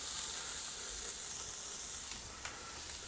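Chopped onion sizzles in melted butter in a pan, a steady close hiss and crackle with a few faint stirring clicks and no voices.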